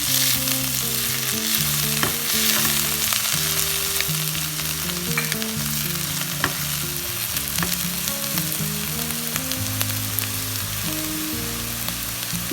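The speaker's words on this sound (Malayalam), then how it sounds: "ഇതെല്ലാം കൂടി നന്നായിട്ടൊന്ന് വഴന്ന് വരട്ടെ" Crushed ginger and garlic sautéing in a generous amount of coconut oil for a Kerala egg roast, a steady, close sizzle and crackle running throughout with no talking.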